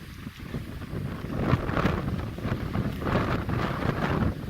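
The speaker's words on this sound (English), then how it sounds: "It is really windy up here." Strong wind on Windy Peak in Golden Gate Canyon State Park, Colorado, roars and buffets the microphone in steady gusts, a loud, rushing rumble with no other sounds.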